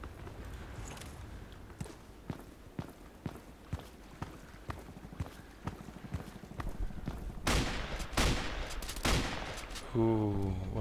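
Gunfire from weapons in the video game Contract Wars crackles in a series of sharp, fairly quiet shots, followed by a denser burst of rapid fire near the end.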